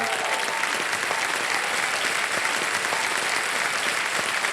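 A studio audience on the Kaun Banega Crorepati game show applauds continuously, a dense, even wash of clapping that stays steady and fairly loud throughout.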